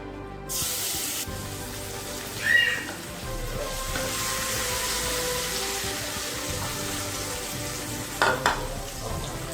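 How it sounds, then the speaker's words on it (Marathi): Steady, soft sizzling of mashed sweet potato frying in a pan over low heat, with a couple of brief scraping stirs. "आता याला छान भाजून घ्यायचं आहे आपल्याला मंद आचेवर"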